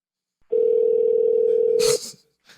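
A steady telephone dial tone sits inside a played song, holding loud and unbroken for about a second and a half before cutting off into a brief burst of noise, with a faint sound trailing afterward.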